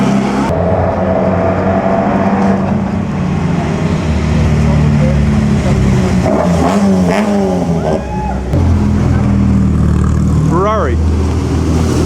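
A vintage Ferrari at the Mille Miglia drives past with a loud, steady engine roar that rises and sweeps by up close, set against a busy crowd with voices chattering throughout.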